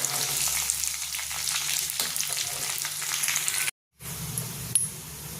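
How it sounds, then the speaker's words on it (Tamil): Black pepper and a pinch of turmeric sizzle steadily as they roast in hot oil, a close, continuous frying hiss with light stirring, briefly cut to silence before the sizzle resumes. "இது நல்லா மொறுமொறுன்னு வர அளவுக்கு வறுக்கணும்."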